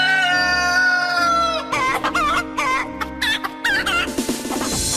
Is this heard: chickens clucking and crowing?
yes